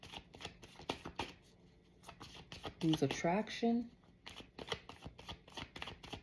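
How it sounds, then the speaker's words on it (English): A deck of cards being riffle-shuffled in repeated quick bursts close to the mic, mixed under a voice that talks all the way through. "I'm going to stop shuffling"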